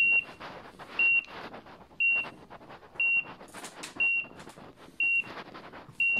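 A loud electronic beep from an avalanche transceiver sounds in short bursts about once per second, six times in a steady rhythm, over a background of rustling movement.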